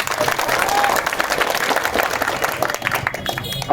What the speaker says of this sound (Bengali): বীরগঞ্জবাসীর জন্য আমার পক্ষ থেকে একটা করতালি হয়ে যাবে।